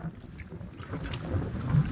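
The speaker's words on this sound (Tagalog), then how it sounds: "Ngayon medyo malakas ang amihan mga bro" Strong northeast monsoon wind sweeps across an open fish pond, a rough, gusty rumble buffeting the microphone that swells and builds toward the end.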